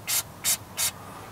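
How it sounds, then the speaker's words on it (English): Three short hissing bursts of penetrating oil sprayed from an aerosol can onto the threads and nuts of a Honda Civic muffler, evenly spaced and close, with no talk. "Gonna throw a little penetrating oil on the threads and the nuts"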